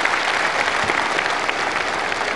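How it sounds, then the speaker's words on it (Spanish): A crowd at an outdoor ceremony in Cochabamba, where irrigation and water programme contracts are handed over, claps in a dense, continuous round of applause that stays loud and even, with no speech over it. "un aplauso para él,"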